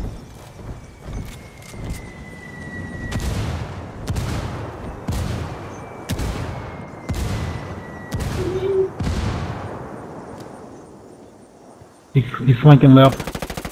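Repeated bursts of automatic gunfire from a tactical shooter game crack out at regular intervals, loud and close, with a voice speaking briefly over the shots and a harsh noisy burst near the end.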